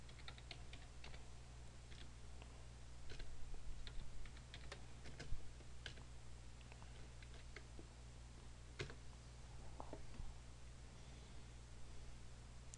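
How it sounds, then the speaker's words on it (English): Quiet typing on a computer keyboard as a command is entered at a command prompt: irregular light key clicks spread over several seconds, close by and alone against a faint steady hum. "Now we're going to type defrag.exe/?"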